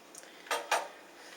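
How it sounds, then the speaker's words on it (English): Homemade mold melts in a pot while being stirred, giving a few soft scraping and clinking touches of a utensil against the pan in a quiet room. "as this is melting down, we just keep on stirring it."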